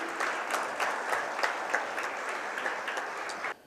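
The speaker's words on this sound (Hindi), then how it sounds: "एक बार जोरदार तालियों से आनंद व्यक्त कीजिए।" An audience applauds heartily at the Governor's visit to Kaivalyadhama, a sustained wash of many clapping hands, fairly close and even, that stops abruptly just before the end.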